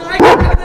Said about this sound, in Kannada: ನಾಯಿ ಕಡಿತು ಯಪ್ಪ, ನಾಯಿ ಕಡಿತು